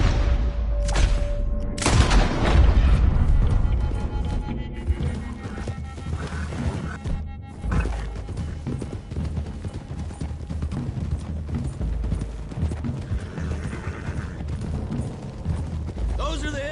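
Horses gallop through Red Dead Redemption 2 gameplay, with a dense, continuous drumming of hooves under music and rumbling booms, and a brief whinny in the opening seconds.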